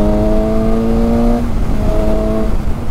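A 2018 Suzuki GSX-S750 with an aftermarket silencer revs hard with a loud, steady droning exhaust note, dips briefly, then climbs again.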